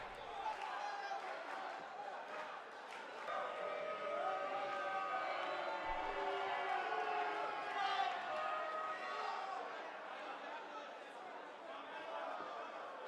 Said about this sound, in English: We have crowd in the background.